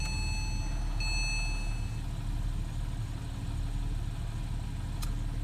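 A 2009 Porsche 911 Carrera engine idles steadily after starting, a continuous low rumble that stays even throughout, with a faint high electronic tone briefly audible early on.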